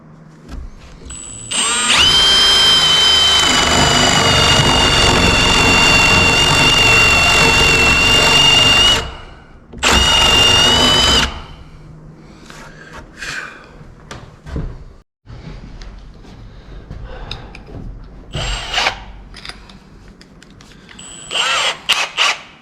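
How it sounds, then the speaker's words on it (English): A 3/8 inch power drill bores through a thick wooden desk board in two loud whining bursts, a long run and a shorter one, followed by quieter knocks and handling clatter. "so we're using a 3/8 drill"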